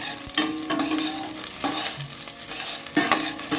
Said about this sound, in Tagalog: pag nag-brown na itong ating bawang at sibuya, ay ilalagay na natin yung karne. Medyo i-ano natin siya ng konti. Isasangkot sa.